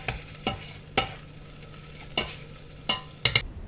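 Coriander leaves stirred through biryani masala frying in a pan, several distinct spoon scrapes against the pan spaced irregularly over a low steady sizzle, close and fairly quiet, with no talking.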